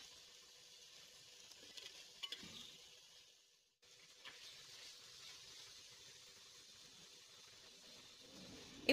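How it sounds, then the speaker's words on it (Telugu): Ginger garlic paste frying with soft tomato pieces in a clay pot for chicken curry, giving a steady, faint sizzle with occasional stirring scrapes and a brief drop in sound partway through. "ఇందులో మనం అల్లం వెల్లుల్లి పేస్ట్ యాడ్ చేసుకొని పచ్చివాసన పోయే వరకు వేయించుకోవాలి"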